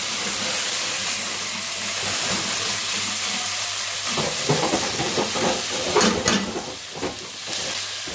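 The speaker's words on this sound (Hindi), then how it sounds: "इसे 5 से 10 मिनट भूनना है" Minced mutton qeema fries in a pan with a constant loud hiss and sizzle, joined midway by bursts of crackling and the occasional scrape of stirring.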